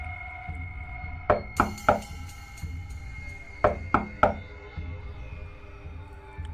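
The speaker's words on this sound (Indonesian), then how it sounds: "Ketukan pintu terulang beberapa kali." Knocking on a house door late at night, sharp wooden raps in two bursts of three, each group evenly paced and close, with quiet room tone between.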